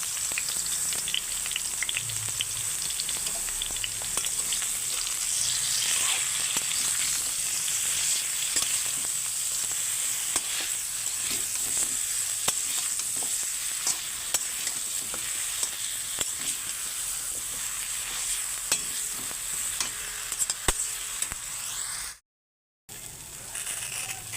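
Eggplant slices frying in oil with turmeric and salt, a low steady hiss with scattered faint crackles and clicks, fairly quiet and alone, with a brief dropout near the end.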